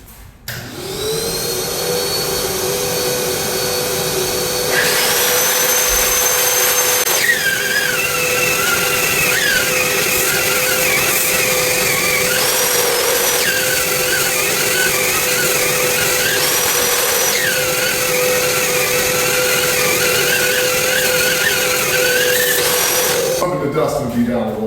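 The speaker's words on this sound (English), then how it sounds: "I just got this quarter cable power sander. I'm running it through a vacuum with a bag." A Porter-Cable power sander working a skim-coated ceiling, hooked to a bagged vacuum: a loud continuous whine and roar with shifting pitch as the pad moves, running nearly the whole time.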